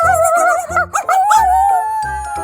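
A dog howls and whines in drawn-out, wavering tones, close and loud, with brief breaks between the cries.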